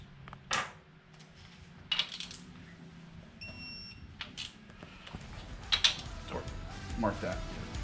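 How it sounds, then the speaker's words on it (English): A torque wrench tightens bolts to 105 foot-pounds on a Dart Iron Eagle 2JZ engine block, with scattered ratcheting clicks and a short electronic beep, close and fairly quiet, with faint voices nearby. "into the final torque, 105 foot-pounds, which is considerably higher than the factory"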